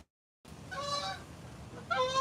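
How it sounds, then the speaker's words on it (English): A pair of Canada geese honking outdoors on a Friday evening, two bursts of nasal, plaintive honks a moment apart, clear and moderately near after a brief silence. "Is there any more plaintive sound on earth than a pair of Canadian geese playing together"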